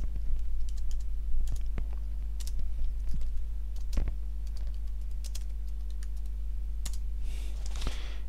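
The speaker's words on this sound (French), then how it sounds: "dans Google, hein, nous allons taper tout simplement Le Bon Coin" Someone types a search into Google on a computer keyboard, sharp irregular key clicks tapping close by over a steady low electrical hum, with no talk.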